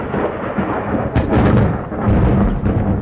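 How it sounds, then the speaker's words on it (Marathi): Thunder rumbles before a big storm, a loud, close rolling roar with sharper cracks partway through and a rain-like hiss underneath. "मोठं वादळ येणार असं वाटतंय."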